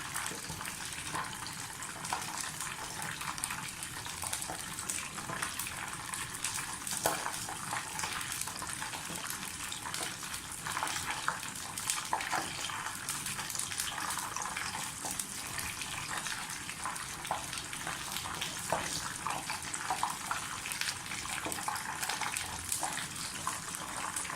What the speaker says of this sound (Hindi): मैं बहुत ज़्यादा डीप फ्राई भी नहीं कर रही, लेकिन और बिल्कुल शैलो फ्राई भी नहीं कर रही